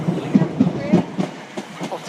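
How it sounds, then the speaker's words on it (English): Class 455 electric train heading to Guildford, running through Clapham Junction with a rhythmic clickety-clack of wheels over rail joints under a low rumble, close by. "here comes a 455 off to Guildford"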